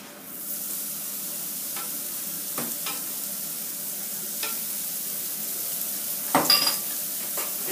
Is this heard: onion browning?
yes